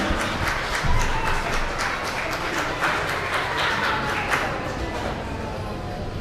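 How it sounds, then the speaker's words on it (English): A crowd of children and adults clapping at a school Onam celebration in Thrissur, with dense, steady applause throughout and some shouting and voices mixed in. "Can I have a wonderful applause?"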